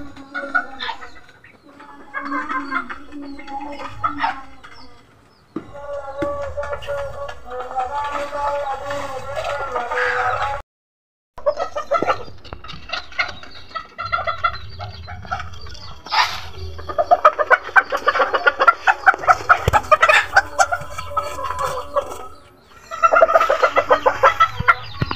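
Chickens cluck and crow on an Indonesian breeding farm, a busy and nearly continuous chorus of nearby birds with a rooster crowing at times, while someone talks over them.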